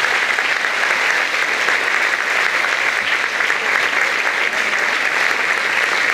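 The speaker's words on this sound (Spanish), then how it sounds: "Sí, el aplauso, exactamente." Audience applause at a women's tea gathering organized by a local government, a dense and steady clapping that stays loud and even for the whole stretch, with no voices standing out.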